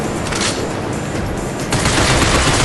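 Rapid automatic gunfire in the video game Binary Domain, a loud dense fusillade of close shots rattling continuously for a few seconds and growing heavier toward the end.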